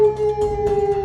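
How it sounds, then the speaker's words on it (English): A wolf-like howl sound effect rings out loud and sustained, a steady tonal wail with a strong held pitch and faint rumbling beneath, with no voices over it. "he will let out a howl"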